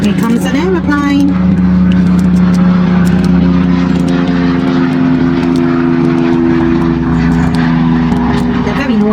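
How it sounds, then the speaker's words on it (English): A low-flying light propeller training plane drones steadily overhead, loud and continuous, with someone talking over it indoors. "Here comes an aeroplane."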